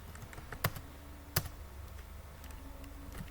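Keystrokes on a computer keyboard as HTML heading tags are typed, with two sharper clicks standing out above a soft, continuous patter of quieter taps; no voice is heard.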